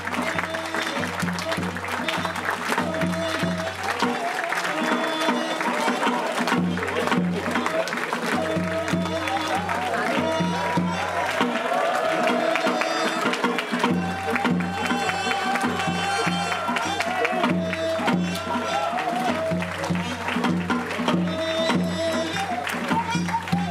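Wedding guests at a traditional Korean wedding ceremony applaud steadily and continuously under music, with an officiant's voice and crowd sounds mixed in.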